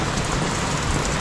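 Heavy rain pours down as a dense, steady roar of broadband hiss, unbroken and loud throughout.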